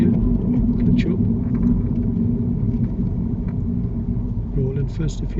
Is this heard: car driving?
yes